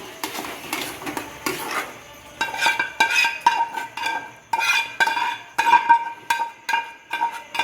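A utensil scrapes and knocks against a pan while lentils are stirred with spices, giving steady rhythmic clinks and scrapes close by with no talking.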